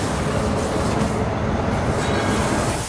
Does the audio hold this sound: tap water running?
no